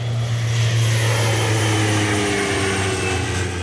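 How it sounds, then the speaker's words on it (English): Propeller planes fly overhead spraying insecticide across South Florida to fight the Zika virus, producing a loud, continuous engine drone that holds steady throughout without any talking. "These planes were flying over South Florida this weekend, spraying insecticide across a 10-mile area."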